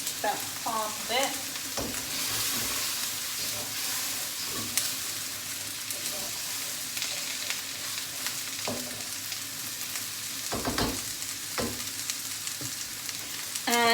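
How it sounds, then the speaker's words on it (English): Coconut milk going into a pan of sizzling prawn coconut curry, a steady close sizzle and hiss with occasional stirring clinks and brief bits of talk. "I'm just going to add some coconut milk"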